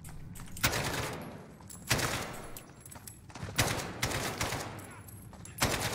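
Rapid automatic gunfire from a gun in the Modern Warfare video game's realism campaign comes in repeated loud bursts with short pauses, dense and close.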